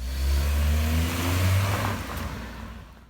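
A car engine revs hard and loud with a steady droning pitch, then eases off and fades as the vehicle pulls away.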